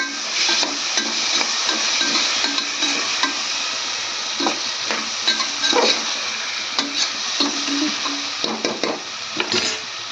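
Tomatoes are stirred in a sizzling pot, a steady frying hiss with repeated soft scraping and clacking strokes of a spoon, close and continuous.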